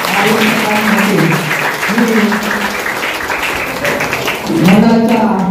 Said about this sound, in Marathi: त्या विद्यार्थ्यांसाठी जोरदार टाळ्या होत्या.